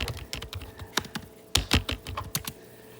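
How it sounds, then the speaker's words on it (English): Quick typing on a computer keyboard: a close, uneven run of crisp key clicks with a few louder strokes and brief pauses, and no one speaking. "Sorry, I'm going to type a little something real quick."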